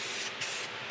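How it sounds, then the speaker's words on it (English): Rust-Oleum Sail Blue spray paint hisses from a can onto a Kurt vise base in a short, close, continuous burst lasting about a second. "I'm just going to get a good coat of paint on here"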